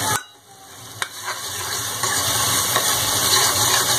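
Spices frying with tomatoes and onions in a pan for rajma and kali dal, a close steady sizzling hiss with occasional sharp clicks of stirring, growing slightly louder after a brief quiet start.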